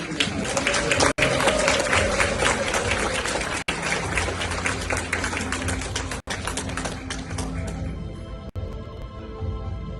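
Crowd at a formal conference gathering gives a long round of applause welcoming a Biafra government-in-exile official, dense, loud rattling clapping sustained throughout with a few brief dropouts, thinning toward the end.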